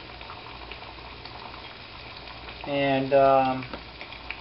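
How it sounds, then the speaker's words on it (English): Water boiling hard in a pot on a Primus camping stove, a bubbling, sputtering rumble that swells loudly over the last second and a half after a brief spoken word. "And that is boiling like crazy. It's jumping out the pot."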